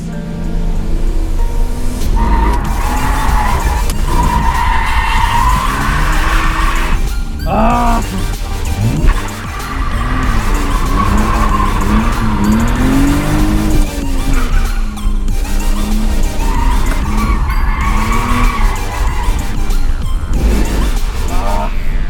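A BMW E46 drifts on a wet track at the Jimmy Up Willow Springs Matsuri, its engine loud and near with rising and falling revs over a constant hiss of tires spraying water and skidding.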